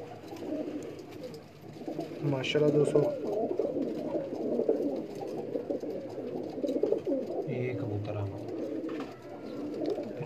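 Pigeons coo softly and repeatedly in a breeder's loft, low throaty calls overlapping with someone speaking nearby.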